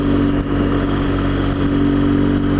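A BMW R1200GS motorcycle engine drones steadily while riding through gentle hills, a close, continuous mid-pitched hum with a slight throttle dip partway through. No one speaks.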